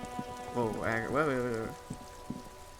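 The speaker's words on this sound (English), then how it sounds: "All around you, rain falls on the great city of Revachol" Rain falls on the city of Revachol in the Disco Elysium video game, a soft, steady patter running throughout beneath a man's drawn-out spoken exclamation, with a few brief knocks near the end.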